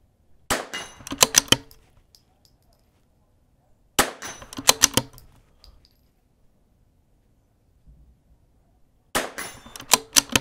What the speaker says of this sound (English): So I'm going to shoot the 40 with 3 shots.